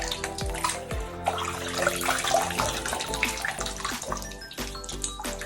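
Running water from a tap rinsing sugar scrub off skin, a steady close splashing flow with a few drips and brief musical tones underneath.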